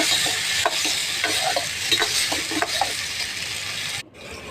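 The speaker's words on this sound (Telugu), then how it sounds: "కరివేపాకు, ఉల్లిగడ్డలు, టమాటాలు వేసి బాగా ఫ్రై చేయాలి" Curry leaves, onions and tomatoes fry in oil with a constant close sizzle, marked by repeated scraping stirs, before the noise drops off abruptly near the end.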